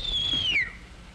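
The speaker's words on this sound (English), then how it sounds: "Did you whistle, sir?" A man gives a single wolf whistle at a woman, a bright sliding tone that holds steady then glides downward before cutting off, clear and close against faint room tone.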